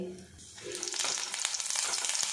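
Dry red chili and whole cumin dropped into hot mustard oil, which bursts into a bright, crackling sizzle with scattered pops, close and loud after a short quieter start.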